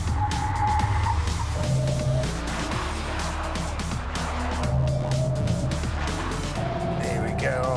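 An Audi S5 on a race track slows hard from around 120 mph, its engine note dropping under heavy braking, with a brief ABS chatter and faint tyre squeal. Close, loud in-car sound, with someone talking over it.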